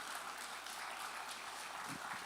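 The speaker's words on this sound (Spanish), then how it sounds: "¿Cuántos le dan un fuerte aplauso al Señor?" Faint applause from a church congregation during a sermon, a soft uniform patter of clapping heard at a distance with no talk over it.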